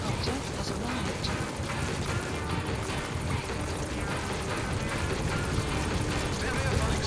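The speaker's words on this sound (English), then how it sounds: "Support helicopter has arrived." A support helicopter arrives in Metal Gear Solid V: The Phantom Pain, its rotor wash and engine forming a fairly quiet continuous rumbling roar under game voices and background sound.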